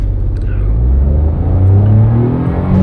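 A 2024 Maruti Suzuki Dzire with an AMT gearbox pulls away from a standstill, its engine rising in a loud, close, droning rev.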